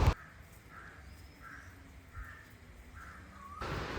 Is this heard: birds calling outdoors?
yes